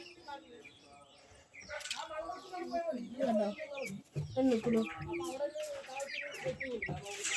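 Chickens, some of them ailing and drooping, cluck repeatedly at close range while someone talks over them throughout.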